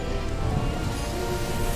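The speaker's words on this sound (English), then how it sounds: "Heavy rain fall across the forest with great force." Heavy rain pours steadily across a jungle forest, a dense, even hiss of falling water with no breaks.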